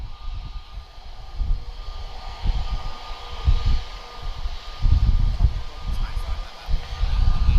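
A jet airliner at Lisbon Airport rumbles steadily in the distance, its low engine drone swelling and fading under a broad wash of background noise, with faint speech now and then.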